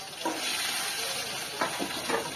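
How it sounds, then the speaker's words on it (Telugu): Green chilies and garlic frying in a pan of oil, a steady close sizzling hiss with soft stirring scrapes rising in a few brief bursts, no voices. "వీటినైతే ఇక మంచిగా ఫ్రై చేసుకుంటున్నాను"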